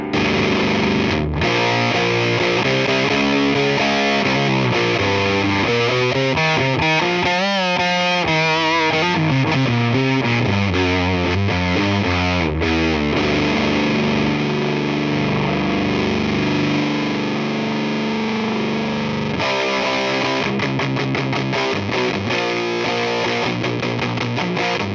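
Electric guitar played through a Black Cat OD-1 Freddie Fuzz clone pedal, heavily fuzzed sustained chords and note bends, loud and continuous, alone without talk.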